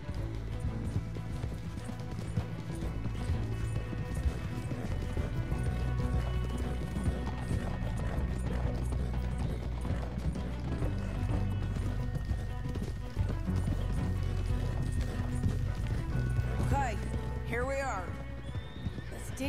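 Horses gallop with rapid clip-clopping hooves and whinny in Red Dead Redemption 2, set under music and a busy game soundscape lasting throughout.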